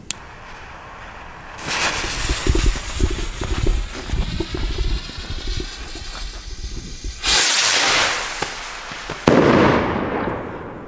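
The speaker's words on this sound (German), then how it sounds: "Enthalten sind 5 verschiedene Raketen, jeweils 20 Gramm." A 20 g firework rocket from a Gaoo Strong Pack fires with a long hissing whoosh and crackling, followed by a loud burst and a second sharp crack with fading rumble, outdoors and without talk.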